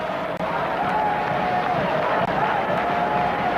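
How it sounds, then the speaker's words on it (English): A large stadium crowd roars steadily for the Sri Lankan team at the 1996 Cricket World Cup, a continuous dense wash of cheering with a faint wavering tone from playing bands. "The crowd to a man are cheering these Sri Lankans"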